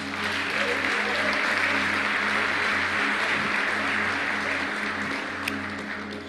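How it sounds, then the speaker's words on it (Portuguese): A crowd at a motivational prosperity talk applauds for a guest named Thiago Rocha, steady sustained clapping from many hands at moderate distance over a low background hum, holding evenly throughout. "Uma salva de palmas pro Thiago Rocha."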